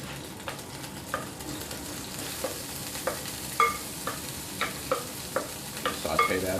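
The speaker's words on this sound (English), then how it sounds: "Saute that up for a minute." Diced onion sautés in oil in a pan with a low steady sizzle, broken by repeated soft scraping stir strokes, close and quiet.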